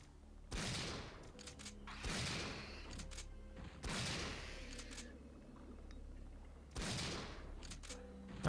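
Gunfire in the Resident Evil 3 video game, aimed at brain sucker creatures: several heavy, booming shots arrive at irregular intervals, each followed by a ringing decay, with in-game background rumble.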